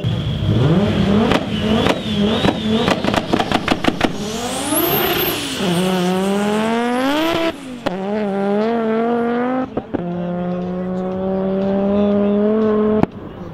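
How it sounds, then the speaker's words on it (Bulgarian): Drag race cars at a street drag racing event, launching and accelerating at full throttle with loud, rising engine howls through gear changes, close and continuous, with one engine note sweeping up high before settling into a steady roar. "дават пълна газ всеки път"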